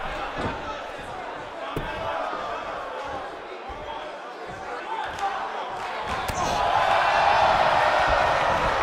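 A wrestling arena crowd roars and cheers in WWE 2K19 beneath ongoing commentary, with thuddy ring impacts early and the crowd noise swelling louder toward the end.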